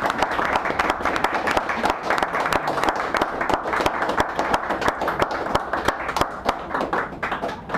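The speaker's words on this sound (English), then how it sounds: "So give Mr. Zimmerman a round of applause as he comes up here." A small audience at a San Francisco cafe poetry reading claps, dense close hand claps forming a steady round of applause that carries on throughout.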